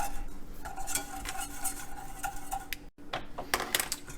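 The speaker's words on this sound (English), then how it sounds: "just keep turning it with the whisk, and it'll get it nice and smooth" Whisk stirring a souffle mixture in a pan, a steady run of close metallic scraping and tapping against the pan with a brief pause partway through.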